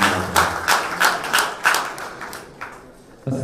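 Applause from an audience at an Urdu mushaira in Kuwait: a handful of sharp, close claps spaced irregularly, thinning out before one last clap at the end.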